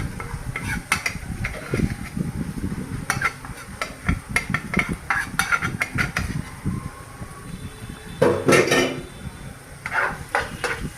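Spice paste with turmeric and chili being stir-fried in a pan for a koi fish dish: a spoon repeatedly scrapes and knocks against the pan in an irregular rhythm, with a soft sizzle beneath, alone without talk.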